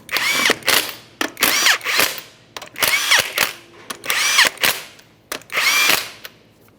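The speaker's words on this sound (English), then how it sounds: "start on all 5 of your 19mm lug nuts. We'll bottom them out." An impact wrench runs on the 19mm lug nuts of a 2012-2015 Honda Civic front wheel, five loud whirring bursts with rattling hammer clicks between short pauses, no talk.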